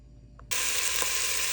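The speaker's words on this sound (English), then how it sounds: "I'm gonna let that brown" Italian sausage with its casing removed bursts into a loud, steady sizzle as it hits a hot pot for a one-pot lasagna soup, after a brief quiet moment, and keeps frying without pause.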